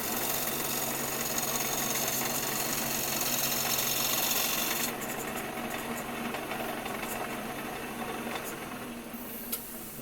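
Wood turning on a lathe with a spindle gouge: a steady, close mechanical whir and rasp that holds evenly throughout, easing slightly in brightness about halfway, with no talking.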